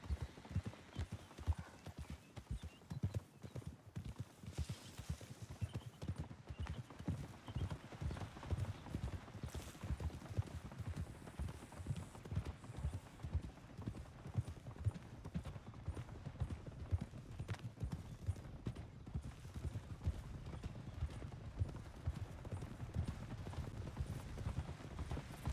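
Horse cantering in the Western video game Red Dead on a WildRP server: steady, rapid clip-clop hoofbeats close by, continuing throughout with brief faint snorts.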